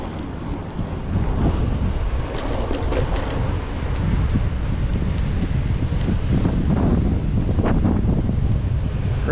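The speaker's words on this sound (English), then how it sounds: "Right into that wind." Steady, loud wind roar buffets the microphone on a ride through town, a continuous rushing blast with no voices.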